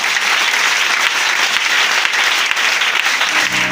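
Loud, steady applause from an audience at an Easter church seminar, dense clapping filling the whole stretch without a break.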